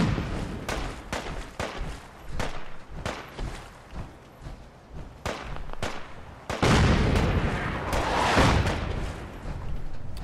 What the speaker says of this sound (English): Well, we know our artillery's working good.